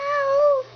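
A young child imitates a cat's meow, a single clear, close, drawn-out mew lasting under a second.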